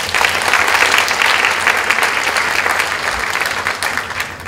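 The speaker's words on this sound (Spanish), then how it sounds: "Un aplauso también para él." Loud, sustained applause from an audience at a round-table discussion on human values education, a thick continuous roar of clapping that softens slightly near the end.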